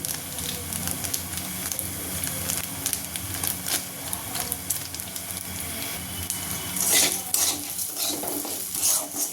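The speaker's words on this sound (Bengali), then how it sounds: "জিরে গুঁড়ো দিয়ে ভালো করে নাড়া নাড়াচাড়া করবো" Cumin powder stirred through vegetables with carrot in a hot frying pan, a continuous close sizzle with repeated scraping and clanking of the spatula against the metal, a few louder bursts toward the end.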